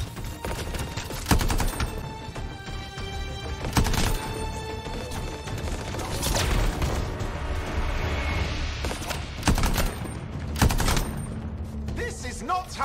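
Rapid gunfire crackling in bursts during a cutscene of the sci-fi action game Anthem, dense and loud with sharp impacts and metallic clanks over a continuous mechanical rumble, no speech heard.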